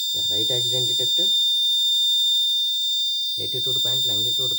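A steady high-pitched electronic buzzer tone from an Arduino accident detection system alarm sounds continuously and loudly, with someone talking over it before and after a short gap.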